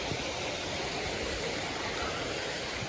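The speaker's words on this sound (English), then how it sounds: "from the waterfall, as you can hear in the background" Steady broadband rushing of a waterfall at Saugatuck Falls Nature Area, a continuous close wash of falling water with no voices, unbroken for the whole stretch.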